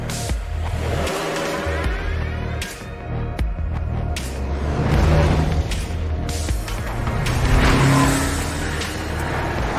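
Engine of a Tough Roader NRG car droning and revving up as it accelerates, a loud continuous rumble that swells and eases, with a few sharp knocks and clunks along the way.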